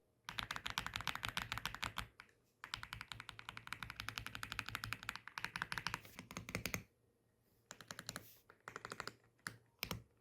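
Rapid typing on an Aula F75 mechanical keyboard in close bursts, loud clacky keystrokes with brief pauses between runs, no voices.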